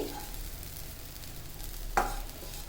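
Moong dal halwa stirred and fried in a pan, giving a steady low sizzle with scraping stir strokes and one sharper clink near the end, heard close and alone without talk.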